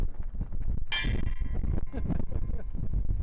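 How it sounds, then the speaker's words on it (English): The ship's bell on the bridge of the Star Legend is struck once, giving a sharp metallic clang with a short ringing tail. Footsteps, shuffling and bridge noise can be heard around it. "that you can actually ring the bell here."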